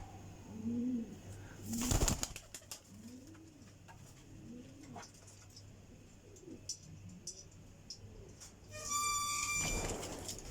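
Pigeons kept as Sialkoti Teddy birds coo softly in a repeating rolling rhythm, with a loud flutter of wings and a rattle around the two-second mark and some scuffling near the end.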